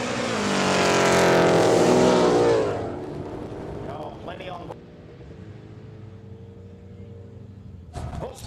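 A car, likely a wagon, at the Oz Aid Kooralbyn Valley Quick Street event, roaring loudly past at speed with a rising, falling engine note that fades into the distance, followed by quieter background noise and brief talk.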